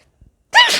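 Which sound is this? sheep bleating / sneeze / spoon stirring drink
sneeze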